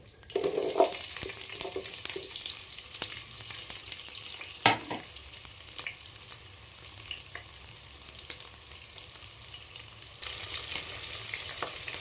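Onion and green chilies fry in oil for bagara rice and vegetable curry, a steady close sizzle running the whole time with scattered crackles and a sharp clink near the middle.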